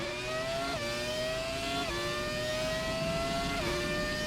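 The McLaren MP4-13 Formula 1 car's engine in the F1 2017 video game at Spa screams at high revs, climbing steadily with three sharp upshifts, loud and continuous with no speech.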